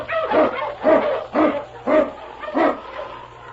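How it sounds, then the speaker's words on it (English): An Eskimo husky lead dog barks in the snowy Yukon wilderness: five loud, close barks in a steady rhythm, each short and sharp, with a low hum underneath. "King, the swiftest and strongest of Eskimo lead dogs, blazes the trail through storm and snow"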